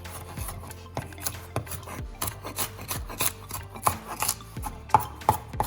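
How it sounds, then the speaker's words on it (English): A knife chops vegetables small on a wooden cutting board, a rapid uneven series of close rasping cuts and taps. "if they're not small enough, just go back and just cut them really small like so"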